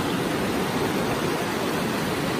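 The Vorderrhein river near Disentis, Switzerland, rushes over large stones in a loud, constant roar of broadband water noise that stays steady and close throughout, with no voices.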